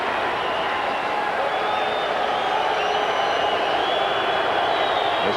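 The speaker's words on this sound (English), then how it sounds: "The stadium crowd revs up." Crowd in a basketball stadium during a 1989 Cavaliers game, a steady, dense roar of cheering that swells slightly louder throughout.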